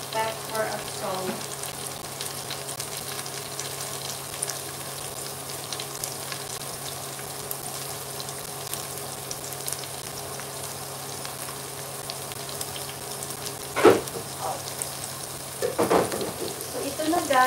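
Native chicken pieces frying in a pot, a steady broadband sizzle with a constant low hum beneath and a few sharper clatters near the end.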